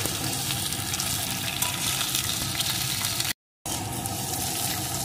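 Vegetables frying in oil for mixed dal, a steady close sizzle with light stirring, briefly cut to silence before the frying resumes.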